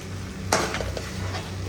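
Tomatoes stirred in a frying pan for an octopus dish, a steady sizzle with a sharp scrape of the utensil against the pan followed by a few softer stirring strokes, close and without talk.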